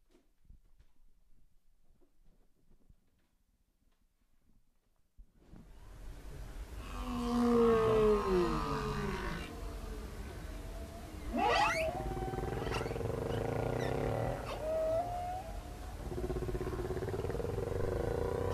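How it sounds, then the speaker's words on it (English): Chorusing humpback whales recorded by a deep-ocean hydrophone at an observatory: after several seconds of near silence, overlapping moans, rising whoops and sweeping cries from multiple whales fill a steady, loud underwater rumble. "recording in the deep ocean at the Mars Observatory, and it's chorusing humpback whales."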